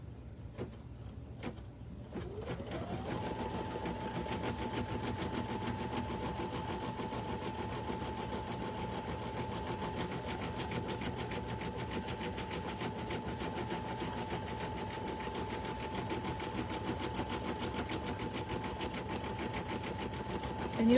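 A sewing machine starts up with a few clicks, ramps quickly to speed, and then runs continuously at a steady, fairly quiet drone for the rest of the stretch.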